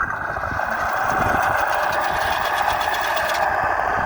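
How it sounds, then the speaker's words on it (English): A small engine sound module on a 1/16 scale RC crawler idles loudly in a steady, fast mechanical chatter, constant and close, with no voices. "you've got engine start, and then it goes to tick over"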